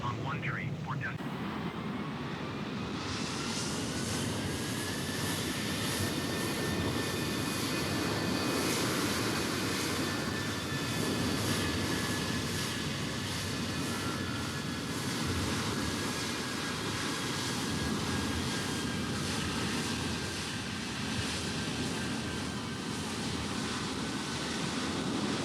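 A simulated Boeing 767 jet takes off at New York's JFK airport in Microsoft Flight Simulator 2020. A loud, steady engine roar holds throughout, with a high whine that climbs in pitch as the jet powers up.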